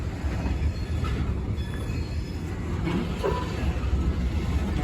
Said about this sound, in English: So they just dropped off that hopper car.